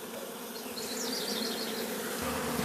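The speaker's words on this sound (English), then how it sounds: "Bees are coming out. I drilled the hole and they're coming out." Bees swarm out of a freshly drilled hole, producing a steady, close buzzing that holds throughout with no speech.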